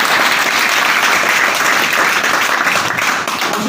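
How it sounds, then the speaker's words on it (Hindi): An audience at an Indusviva business meeting breaks into loud, dense applause that stays steady for several seconds, filling the hall without any voices over it. "ताली होनी चाहिए।"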